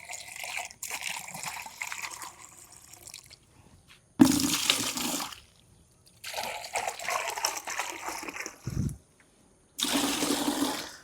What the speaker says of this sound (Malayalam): ആദ്യം നമ്മൾ ഒഴിക്കേണ്ടത് 2 ലിറ്റർ വെള്ളമാണ്.